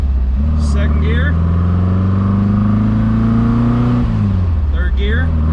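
Porsche 914 engine accelerating in second gear, a loud close engine drone rising steadily in pitch, then dropping briefly as the revs fall, with someone talking over it.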